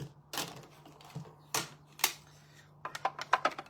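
A hand-cranked die-cutting machine presses a paper-crafting die between cutting plates, giving a few sharp clacks and heavier thumps with quiet gaps, then a quick run of tighter clicks at the end.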